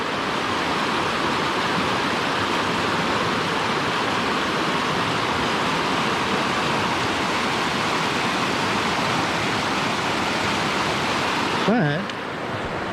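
A river rushes in an alpine wilderness, a loud, steady roar of flowing water that holds unbroken throughout, with a brief faint voice near the end.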